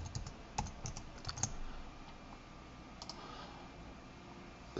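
Mouse and keyboard clicks while working in Premiere Pro, a handful of quiet, close, sharp taps clustered near the start and again around the middle over a low room hum.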